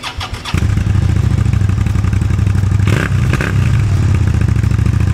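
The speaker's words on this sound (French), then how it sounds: "Pot Mive en titane qui fait un bruit bien sympa par rapport à ce que c'était d'origine" Suzuki SV650 motorcycle fitted with a Mivv titanium exhaust, baffle still in, fires up after a short clatter and settles into a loud, steady, throbbing idle with a brief blip of revs midway, close by.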